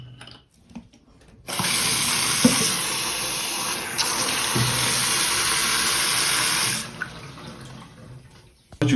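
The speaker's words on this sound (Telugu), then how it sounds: "గోరువెచ్చగా హాట్ వాటర్ ఇలా వస్తుంది అనమాట" Hot water runs steadily from a hotel tap into a bottle, a continuous near hiss and splash lasting several seconds before cutting off, with no talking.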